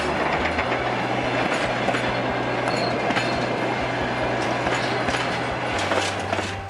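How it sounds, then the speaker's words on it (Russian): A moving train rolls along the rails with a dense, steady rumble and rhythmic clickety-clack of wheels over rail joints, loud and continuous throughout with no voices. "Стук во время движения поезда появляется из-за перекатывания колес по рельсам."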